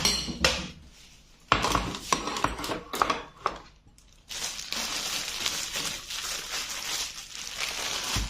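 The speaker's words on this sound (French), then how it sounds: "je vais prendre une assiette" A plate is taken out in a home kitchen while a vegetable and ground-meat pizza is made: close clatter and clinks of dishes and cutlery in scattered bursts, then a steady rustling shuffle, with no talking.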